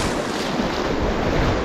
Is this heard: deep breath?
no